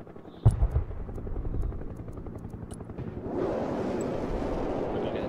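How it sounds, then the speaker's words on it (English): A sharp impact in the video game Broken Arrow gives way to the steady, low chopping thrum of a helicopter, which swells into a louder, broader roar partway through. "Oh, it's a helicopter."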